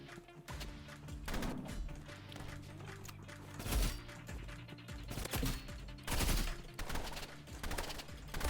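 Gunfire in a ranked video game shooter match, with scattered loud shots and bursts at irregular intervals over a busy background of game sounds.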